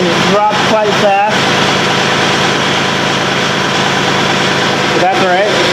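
A diesel LS XJ2025 tractor idles loud and close in a steady, even drone, with a voice talking over it at the start and again near the end.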